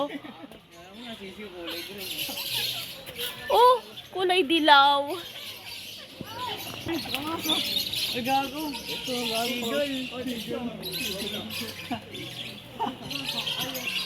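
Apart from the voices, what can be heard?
birds chirping and squawking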